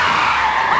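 Car brakes hard with tires skidding and squealing loudly across the road, a continuous shriek filling the brief moment with no talk.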